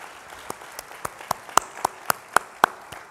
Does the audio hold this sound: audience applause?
yes